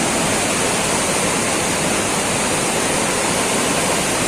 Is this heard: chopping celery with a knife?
no